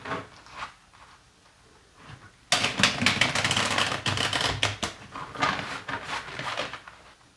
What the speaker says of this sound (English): I'm just going to shuffle these three times.